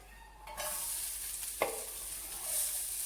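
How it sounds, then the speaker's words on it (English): Scotch bonnet pepper, onion and garlic hit a hot pan and burst into a bright sizzle that holds steady, with a couple of short stirring clicks, close and fairly quiet. "So first we're going to add in our scotch bonnet pepper, our onion and our garlic"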